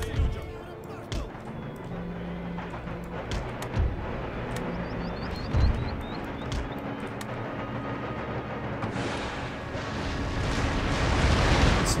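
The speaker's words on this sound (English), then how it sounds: "we've got mortars shooting at us" Mortar fire in the strategy game Empire Total War, with several dull thumping blasts and rumbling impacts scattered over a continuous battle din that swells louder near the end.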